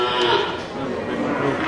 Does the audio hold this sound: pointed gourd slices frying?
no